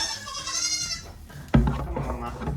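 A goat at a milk stand gives a wavering bleat, followed by a sharp knock and shuffling, with a person speaking nearby.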